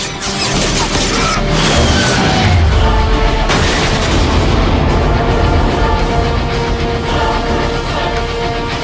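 Weapons fire is directed at tow cables during a Transformers film battle, with heavy booming blasts and crashing impacts layered over a dense, loud wall of action noise and music.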